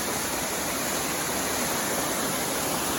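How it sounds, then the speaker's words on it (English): A waterfall pours with a dense, unbroken roar of rushing water, loud and steady throughout with no voices. "We're going to head up past this waterfall to another waterfall."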